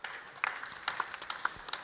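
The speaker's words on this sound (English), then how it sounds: "Big applause for the panel." Audience applause for a panel at an additive manufacturing trade-show stage, a brief, fairly faint patter of scattered claps with a few sharper hand claps standing out.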